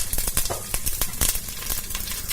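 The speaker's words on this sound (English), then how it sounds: "drop in the cumin seeds and the fenugreek. You'll hear it popping within a minute here" Cumin and fenugreek seeds crackling in hot oil as a cooking base for pilau, a dense, continuous sizzle studded with rapid sharp pops, close and fairly loud.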